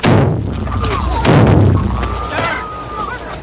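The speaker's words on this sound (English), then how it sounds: "Explosions filled the air." Grenade explosions strike a funeral crowd: two heavy, booming bursts land close together. Panicked crowd noise and shouting rise around and between them.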